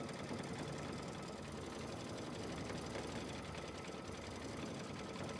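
An embroidery sewing machine stitches out a quilt border block, giving a steady, dense mechanical whir and rapid needle chatter that runs unbroken at an even level from start to finish.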